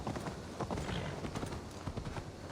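Horse hooves clip-clop at a brisk, steady trot in Assassin's Creed Valhalla, a close, regular rhythm of thuds over a soft background hum.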